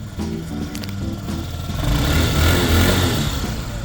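A Honda Metropolitan fuel-injected scooter engine starts and settles into a steady, fairly quiet idle, a low continuous hum that swells slightly after the first second and holds close by.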